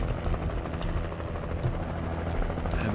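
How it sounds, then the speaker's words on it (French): Helicopter in the video game Alan Wake, its spotlight sweeping the scene: a steady, loud rotor thump and engine drone fills the whole stretch without pause, close and unbroken. "le spot de l'hélico, il a été tellement utile"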